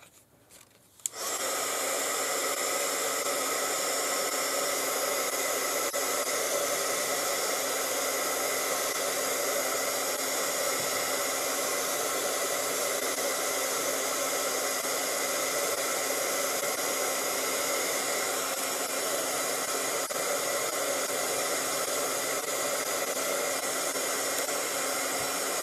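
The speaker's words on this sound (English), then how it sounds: "And we'll dry it with the heat gun." A heat gun drying a craft project switches on and blows a steady, loud airy roar that continues unbroken for the rest of the clip.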